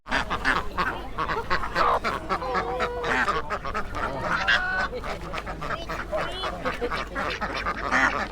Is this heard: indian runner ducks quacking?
yes